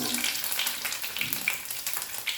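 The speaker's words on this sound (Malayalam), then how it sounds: "വെളുത്തുള്ളിയൊക്കെ ഒക്കെ മൂക്കേണ്ടതായിട്ടുണ്ട് വെളുത്തുള്ളിയുടെ ഫ്ലേവർ ഇറങ്ങി വരുന്നതിന് വേണ്ടി" A handful of garlic fries in hot oil in a pan with a steady close sizzle and crackle, small pops and spits scattered through the bright hiss for a few seconds.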